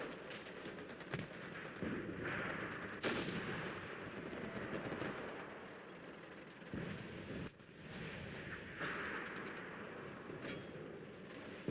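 Sustained automatic and rifle gunfire in the war shooter game Enlisted, dense rattling bursts and sharp shots layered over a rumbling battlefield throughout.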